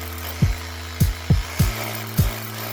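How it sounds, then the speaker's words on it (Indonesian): An 8 mm masonry bit bites into a concrete wall during canopy installation, giving five short, sharp grinding bursts in quick succession over a steady low motor drone. "Ini kita bor menggunakan bor beton dengan ukuran 8 mili untuk bor"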